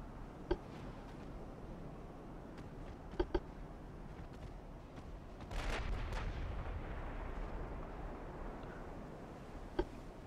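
A torpedo strikes a warship during a naval battle in Ultimate Admiral: Dreadnoughts, giving a rumbling, fairly distant burst amid a few sharp isolated gun cracks and a low steady background of ocean and engine noise.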